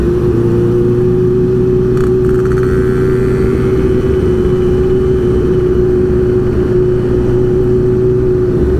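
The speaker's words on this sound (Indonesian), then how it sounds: "Tadi gue dengar suara geberan." A motorcycle engine at a Sunday morning ride meet in Lampung drones loudly and steadily nearby, holding a strong constant hum with a brief rise around two seconds in and no talk.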